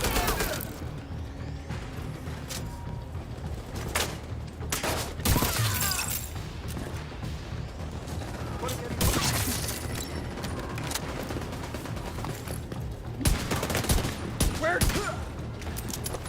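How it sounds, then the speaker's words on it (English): Gunfire in The Division 2 during the Battle for Brooklyn, with dense rapid bursts and sharp single shots cracking over a rumbling battle background. A distant game voice comes through under the shooting. "Laying down suppressive fire."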